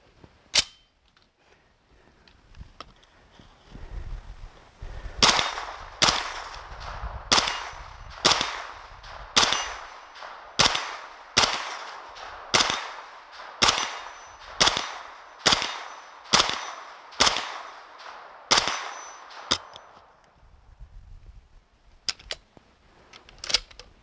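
An H&K HK94 carbine fires a long series of sharp, fairly evenly spaced shots at an outdoor range, about fifteen cracks in a row, each followed by a short decay.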